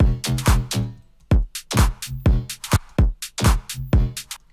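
A filtered synth bass in FL Studio 20 plays a punchy, plucky pattern of short notes with quick decays, each hit bright at first then closing down.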